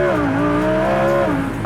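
A Lamborghini Huracan Evo with a naturally aspirated 5.2 liter V10 revs loudly up close, its harmonic engine note rising and falling in a strong, sustained howl.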